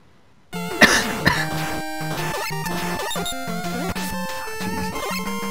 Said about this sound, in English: The quiet cough in the midst of silence.